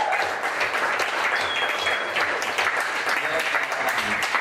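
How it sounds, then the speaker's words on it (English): An audience gives a sustained round of applause for a live band at a student speaking event, dense and continuous clapping at steady volume, with faint voices and cheers mixed in. "can you give a round of applause for the band?"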